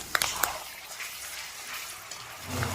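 Ginger and garlic paste sizzles in a frying pan over lightly browned onion paste while an egg curry is cooked, a steady soft frying hiss with a few sharp clicks at the start and a faint stir near the end.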